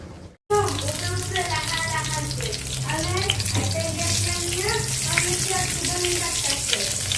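Eggplant rubbed with turmeric and salt frying in hot oil, a dense, steady crackling sizzle that starts abruptly after a short silence and runs on close by, with a voice heard faintly now and then.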